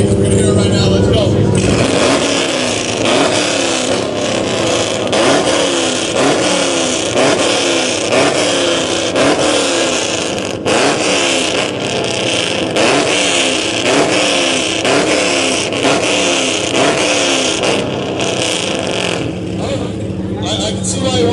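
A V8 car engine in a rev battle roars loud and close, revving repeatedly in rhythmic bursts with a harsh, gritty exhaust note for about twenty seconds, with voices faintly underneath.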